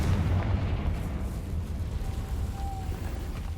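A Confringo blasting spell goes off in Hogwarts Legacy on PS5, heard as a steady low, rumbling roar that stays fairly even throughout rather than breaking into a sharp bang.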